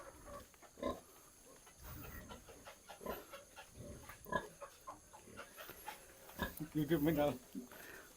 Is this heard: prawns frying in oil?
no